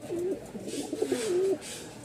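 Pigeons at a crowded pigeon market in Mirpur-1, Dhaka, giving a soft, rolling coo that rises and dips over about two seconds, close by against a faint background murmur.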